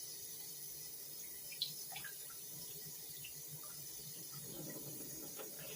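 A kitchen tap runs while raw chicken is washed under it, a faint steady hiss of water with small splashes and a brief knock partway through.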